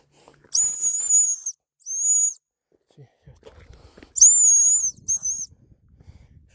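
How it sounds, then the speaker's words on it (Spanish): A small whistle built into a backpack is blown four times in two pairs of short, shrill toots, with quiet speech and outdoor handling noise between them on a mountain hike. "Lleva un pequeño silbato"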